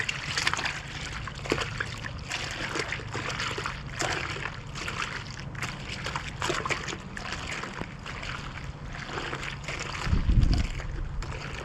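Window cleaning soap stirred into two gallons of clean water in a mop bucket, a steady slosh and swirl of water with small splashes and a heavier surge near the end, no talking.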